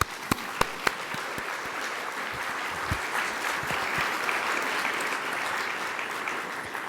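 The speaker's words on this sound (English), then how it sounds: "So I want you all to give yourselves a round of applause." A conference audience applauds steadily, opening with a few sharp individual claps before the sound settles into a dense, continuous wash of clapping at moderate distance.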